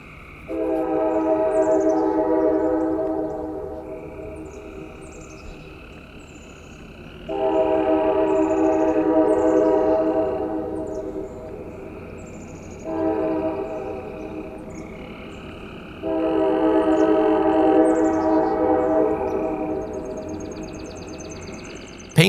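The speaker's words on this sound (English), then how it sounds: "5642 sounded for the crossings to my south" A Norfolk Southern GP38-2 locomotive, painted red, blows its horn for nearby grade crossings: two long blasts, a short one, then a final long blast, carrying clearly from a moderate distance over chirping in the background.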